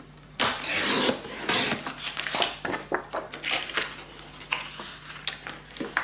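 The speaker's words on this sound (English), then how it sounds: "we're gonna score trim the 4-inch down" Scoring and trimming cardstock on a paper trimmer, a series of close scraping slides and sharp clicks of the blade carriage running along the paper, irregular and fairly quiet with no talking.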